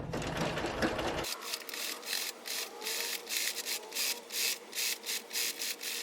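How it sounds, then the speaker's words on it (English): A sewing machine stitches along the seam of a farmhouse-style ruffled pillow cover, a rapid mechanical whir coming in short repeated bursts with pauses between, close and fairly quiet, after a brief burst of handling noise at the start. "So I'll meet you at the sewing machine."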